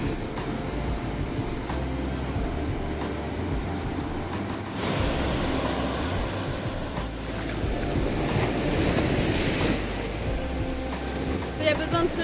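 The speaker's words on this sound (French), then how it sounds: "Les vagues sont assez impressionnantes." Waves breaking on a tropical beach at Pandan Beach, Nusa Penida, a continuous rushing roar of surf that swells louder partway through, with wind noise over it.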